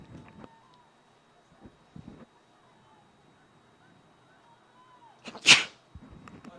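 A single sharp sneeze bursts out near the microphone in a commentary booth at a girls' high school soccer championship, following a quiet stretch with a few soft knocks.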